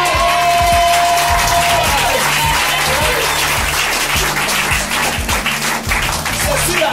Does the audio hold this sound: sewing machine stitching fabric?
no